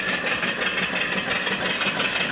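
A live steam mill engine with a homemade flyball governor runs off a 20-inch boiler, giving a fast, even mechanical chuffing and clatter with a hissing wash on top, steady and close, with no talk.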